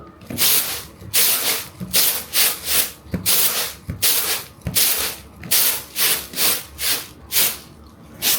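Rice is shaken and rubbed in a container to knock off powder, making a rhythmic series of loud, close rasping swishes, each lasting under a second, with no talk.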